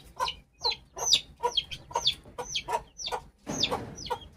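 Guinea fowl call outdoors in a rapid, repeated series of harsh, rhythmic cackles, about ten loud bursts evenly spaced at close range.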